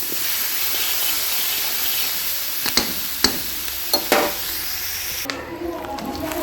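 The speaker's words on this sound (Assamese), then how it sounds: "কম জুইত অকণমান ধুনীয়াকৈ ভাজি ল'ম" Onions fry gently over low heat with turmeric and salt, giving a steady hissing sizzle punctuated by a few spatula knocks against the pan before the sound drops off near the end.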